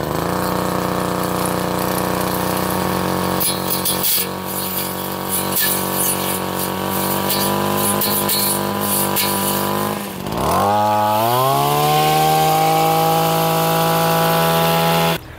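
Wild Badger Power string trimmer fitted with a blade, running loud and steady on its own, with a dip at about ten seconds as the engine slows and then revs back up to a sustained whine.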